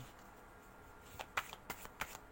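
Tarot cards are shuffled and handled at close range, quiet soft riffles and sharp flicks and taps in an irregular series against low background noise.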